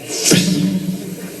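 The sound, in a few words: voice imitating dash punctuation sound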